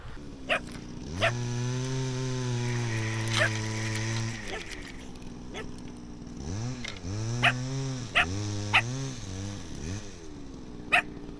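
A dog barks and howls in drawn-out, wavering cries, repeated several times outdoors with a steady background hum.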